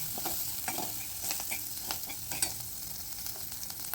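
Tempering of chilies, curry leaves, hing and turmeric frying in hot oil while being stirred, a steady close sizzle broken by scraping and clinking spoon strokes, with no talk.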